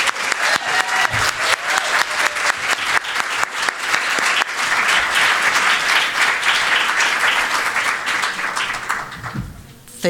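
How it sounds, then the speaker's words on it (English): Sustained applause from a conference audience at an education research session fills the whole stretch, dense and steady, with a few faint voices underneath and a tapering near the end. "Could you please join me in giving them another round of applause"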